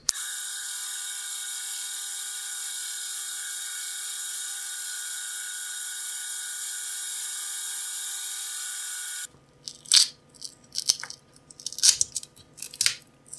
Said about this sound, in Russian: И пошуруем к токарному станку. Установлен шерстяной круг, очень мягкий.